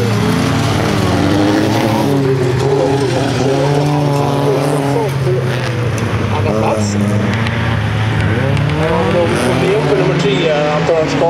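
Folkrace cars at a Trollhättan track charging into the first left turn, several engines roaring and revving loudly together with rising and falling pitch, while a commentator talks over the din.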